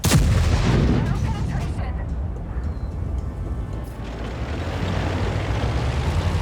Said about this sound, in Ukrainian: Ще один постріл на всяк випадок, може і проб'є десь